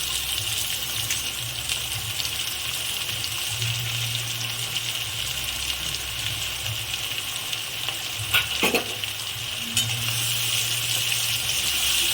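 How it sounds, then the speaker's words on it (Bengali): Chopped onions fry in oil with a little sugar for mutton kosha, a continuous close sizzle with occasional stirring clinks and no talk. "ভালো করে এবার পেঁয়াজটা ভাজা হবে।"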